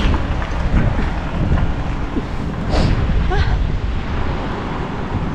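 Cold wind blows hard outdoors in Finland, a constant rough buffeting roar against the microphone that stays loud throughout with slight surges.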